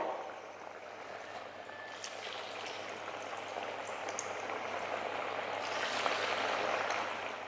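Cabbage vadas frying in very hot oil: a steady, close sizzle and bubbling crackle with scattered pops, gradually growing a little louder.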